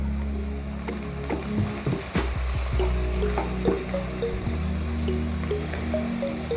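Turmeric powder frying in hot oil with seasonings for a Kerala-style beetroot stir fry, a steady close sizzle with occasional scraping stirs and small pops throughout, no voices.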